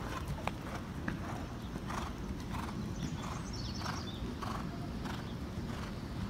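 A horse's hooves clip-clop steadily on approach to a jump during a riding lesson. The footfalls come in an even, rhythmic beat against a continuous low rumble, with an occasional faint snort.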